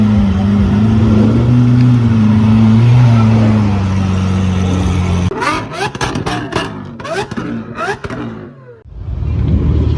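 A new Ferrari Roma pulls out at a car collection event, its engine droning loud and close before sharp rev blips and gear-change bursts fade as it drives away, with people talking nearby.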